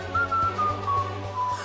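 A cartoon character whistles a short, wavering tune of a few sustained notes over a background music bed, clear and close with no talk.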